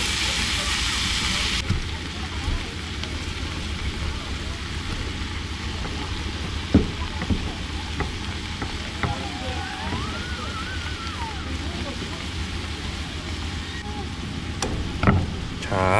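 Razor clams fry in butter with crushed garlic, giving a steady broad sizzling hiss that runs throughout. Faint clinks and soft voices come in now and then.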